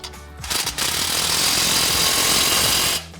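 A power tool with a 15mm socket runs in one loud, steady, rattling burst of about two seconds, tightening an exhaust pipe clamp on a Jeep Gladiator's single exhaust system, with brief clatter before it starts and the sound cutting off at the end.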